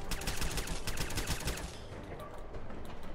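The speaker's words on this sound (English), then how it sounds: "I think I missed every shot" Rapid gunfire from a weapon in the video game Fallout 4: a dense burst of shots fired in quick succession for about a second and a half, then fading into a quieter tail.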